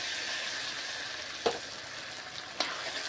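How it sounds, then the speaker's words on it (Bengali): Ground spice paste fries in hot oil in a pan for chicken curry, giving a steady close sizzle with two quick stirring scrapes. "এর তেলের মধ্যে আমি এই বাটা মশলাটা দিয়ে দেবো।"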